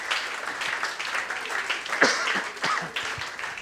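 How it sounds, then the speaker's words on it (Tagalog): A church congregation claps during a Sunday service: steady, close handclaps at a lively rhythm, mixed with voices. "Shall we clap our hands to the Lord"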